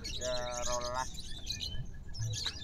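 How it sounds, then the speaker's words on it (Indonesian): Prinia (perenjak) songbird gives a quick run of bright, evenly spaced chirps near the start, followed by scattered fainter calls amid background chatter at a bird market. "terus ini ada perenjak bawah"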